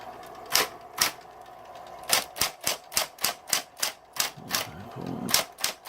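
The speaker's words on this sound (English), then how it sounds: "Let's see if we can type here." Typing on a Smith Corona Coronet XL Coronamatic electric typewriter: close, loud keystrokes, two quick strikes followed by a steady run of about a dozen evenly spaced clacks with no talking.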